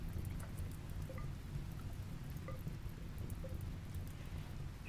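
Rain falls in the video game RimWorld, a steady soft hiss of rainfall on surfaces with scattered faint drip ticks, continuous and fairly quiet throughout without talk.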